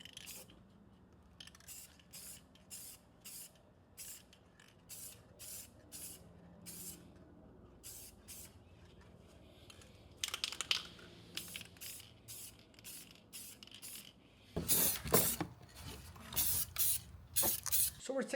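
An aerosol can sprays black paint onto an Integra valve cover in a series of short, sharp hissing bursts at close range, with a few longer, louder sprays near the end.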